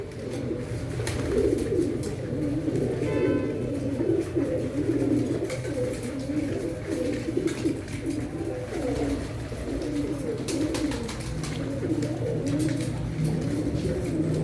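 Pigeons coo steadily and continuously in an open loft room where breeding pairs sit on eggs, the soft throaty calls overlapping throughout with faint fluttering and scratching in the background.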